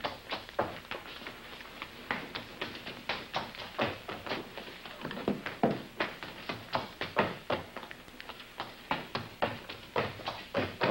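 A child runs back and forth indoors between two doors, footsteps thumping in quick, regular bursts, with a pause and a louder tap at each turn.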